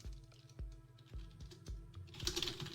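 Someone types on a computer keyboard: a quick, irregular run of close, crisp keystrokes and thumps, ending in a faster flurry of clicks.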